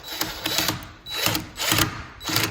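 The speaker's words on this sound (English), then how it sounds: "We're gonna put in the first little screw right here." A power drill drives the first small screw into a replacement garage entry door lock in short whirring bursts with brief pauses, close and without talk.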